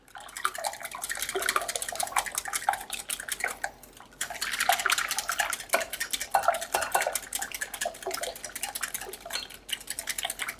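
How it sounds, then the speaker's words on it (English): Pancake batter with milk being mixed in a bowl, a steady busy clatter of a utensil scraping and tapping against the dish, close and continuous with a brief pause midway, no talking. "We're going to mix that too till it incorporates."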